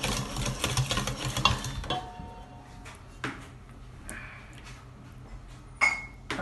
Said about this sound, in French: Donc j'ai rajouté ma cuillère de crème fraîche épaisse. Et je fouette